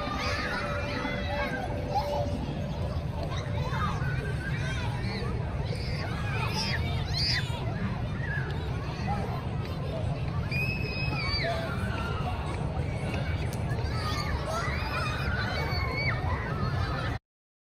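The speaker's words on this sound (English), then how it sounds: "I'll let you hear some of the crowd interaction" A busy crowd at an inclusive education showcase, many voices chattering and calling out at once over a continuous murmur, with bright excited exclamations rising and falling throughout and the hubbub staying close and lively.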